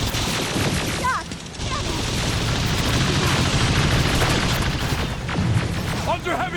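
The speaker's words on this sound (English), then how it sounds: "Under heavy fire!" Dense, continuous heavy gunfire and booming blasts from a firefight against drones and machines in the video game Terminator: Resistance, loud and relentless with brief dips.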